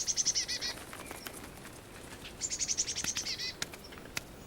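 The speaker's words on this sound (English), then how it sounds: "The bird box is a magnet for birds of all kinds to stock up on sorely needed calories." Small birds at a winter bird box chirp in quick repeated bursts and flap their wings, fairly close but soft, with brief gaps of quiet outdoor air between the calls.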